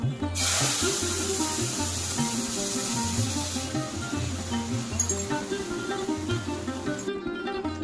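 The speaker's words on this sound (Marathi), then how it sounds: "आता यामध्ये हे गरम केलेलं दूध आणि पाण्याचं मिश्रण घालायचे" Hot milk and water poured into roasted barnyard millet flour with dry fruits in a pan, bursting into a loud, continuous rushing sizzle and hiss that gradually settles, over low background music.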